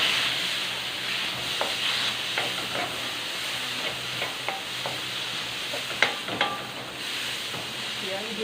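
Chopped tomato sautéing in a hot pan for pork binagoongan sizzles steadily, while a utensil scrapes and stirs in irregular strokes, with a few sharper knocks against the pan.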